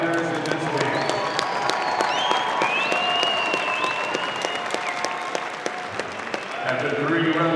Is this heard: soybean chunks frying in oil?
no